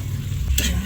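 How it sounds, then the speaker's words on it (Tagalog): Fresh backyard okra drops into a hot pan of carne con okra, setting off a sudden burst of sizzling and frying that carries on steadily after a brief low stir. "meron ako ditong nakuhang gulay sa bakuran, libre, okra. Lagay na natin dyan."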